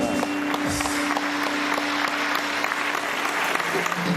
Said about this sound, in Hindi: शहजाद नवाज के लिए तालियां बहुत।